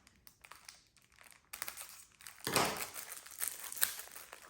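Plastic crinkling and rustling as scissors cut open a sealed plastic mailer bag, irregular crackles and snips building in loudness toward the end, close by with no talk.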